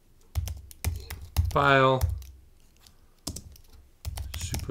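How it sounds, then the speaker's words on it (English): Quick bursts of clicking keys on a computer keyboard as a command is entered, interspersed with someone speaking between the typing runs. "we simply need to go ahead and type in Supabase secrets set"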